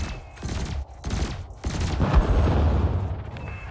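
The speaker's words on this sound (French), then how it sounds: "Votre canon se recharge automatiquement jusqu'à ce qu'il soit à court de munitions." Spaceship cannons fire in Elite Dangerous as several heavy bursts in quick succession, then a booming, rumbling impact. The sound is loud and close, with no speech over it.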